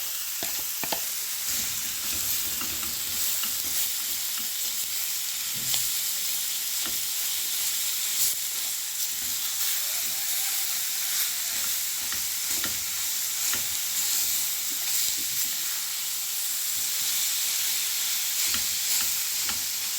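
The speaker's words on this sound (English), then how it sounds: "I'm just frying the mince" Continuous sizzling and hissing of minced lamb frying in a hot pan, with occasional stirring scrapes, steady throughout with no voices.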